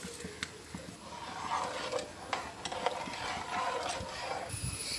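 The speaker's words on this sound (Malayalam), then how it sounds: "ഇതിപ്പോൾ നന്നായി തിളച്ച് വന്നിട്ടുണ്ട്" Palada mixture with cardamom and sugar bubbling and simmering in a pan, a steady soft gurgling with small pops and occasional clinks, close and moderately loud throughout.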